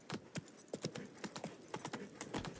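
Hooves of the horse Roach trotting in the video game Witcher 3, a quick, even clip-clop of hoofbeats, faint and steady throughout.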